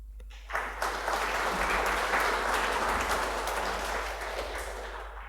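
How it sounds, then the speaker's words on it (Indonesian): A church congregation at a Sunday service applauds, a dense sustained clapping that starts abruptly after a short pause and holds steady, filling the hall at moderate loudness. "Saya aplaus untuk para Pamong."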